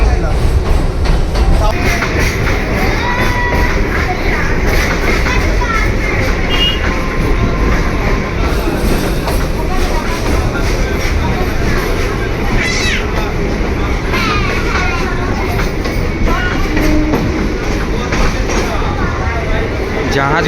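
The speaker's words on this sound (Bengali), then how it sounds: "আমাদের ট্রেনটা চলতে লেগেছে" A moving passenger train rumbles loudly and continuously from inside a carriage, with rattling and clatter throughout and some faint tonal squeals, and people talk at times over the noise.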